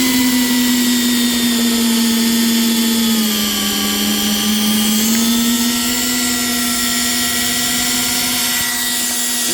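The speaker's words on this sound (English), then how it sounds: "I'm using a very weak compact drill for this stuff." A loud, steady whine from a weak compact drill holds one droning pitch for several seconds, dipping briefly in the middle as it bites into and cuts through two layers of material.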